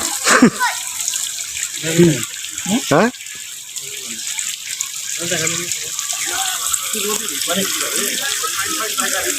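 Water from a waterfall splashes and rushes in a steady wash, with people talking over it at close range.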